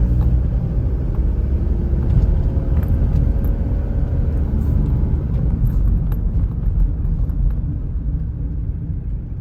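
A Mitsubishi Delica L400 van drives along with a steady, close engine rumble and road noise, the tone shifting slightly as it moves through the gears, with no voices over it.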